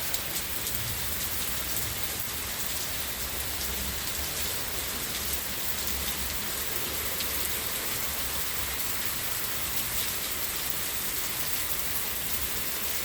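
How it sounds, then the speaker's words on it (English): Heavy rain pouring down steadily during a thunderstorm in Hochelaga, Montreal, with hail mixed in, a dense continuous hiss of drops hitting surfaces all around, loud and unbroken with no voices. "and there's hail, that's severe."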